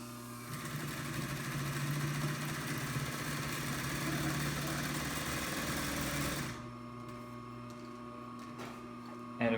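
Columbia N430-2 industrial sewing machine, made in Japan and overhauled, stitching medium-weight denim with a size 14 needle, a steady close mechanical whirr for about six seconds that stops, leaving a low motor hum.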